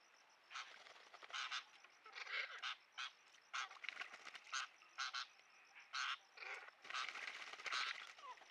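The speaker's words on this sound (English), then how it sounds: "Some greater necklace laughing thrush joining in." Greater necklaced laughingthrushes call at a rocky pool on a warm afternoon, a faint, distant series of short, rapid bursts repeating irregularly over several seconds.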